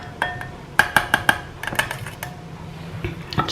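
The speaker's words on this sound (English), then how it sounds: "I'm going to give that a stir and see how it comes." Chocolate being stirred in a bowl for homemade chocolates, heard as a burst of close, sharp clinks and taps of utensil on the bowl, four evenly spaced strikes followed by lighter scraping and a few later knocks.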